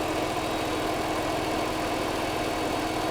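A car engine idles steadily and close by, a continuous low rumble with no voices.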